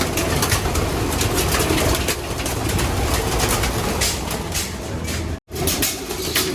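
Hen pigeons are released from a loft, with soft flapping of wings and bird activity over a continuous rushing background, broken by one brief dropout.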